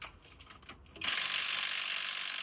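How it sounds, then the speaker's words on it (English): A torque wrench tightens the supercharger bolts on a GM engine, starting with a few close, light clicks and then a loud, sustained rasping ratchet burst lasting over a second before it stops abruptly. "Get my torque wrench in there."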